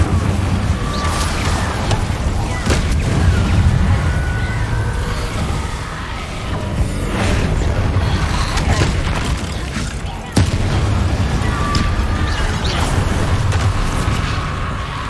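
Spell blasts from Confringo and Incendio in the video game Hogwarts Legacy, with repeated booming impacts and fiery bursts over a dense, continuous din of battle and a music bed, with one sharp hit near the middle.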